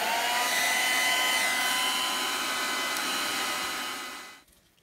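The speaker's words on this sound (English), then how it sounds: "I'm going to dry the ink with just a hair dryer for a minute" A hair dryer blows over freshly stenciled ink on a t-shirt, a loud, steady whirring roar that runs unchanged for several seconds before switching off and fading out.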